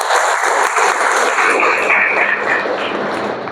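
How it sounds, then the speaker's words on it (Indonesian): A classroom of students claps together in a dense burst of applause, loud and close, holding steady and then easing slightly toward the end. "Tepuk tangan untuk Mirza."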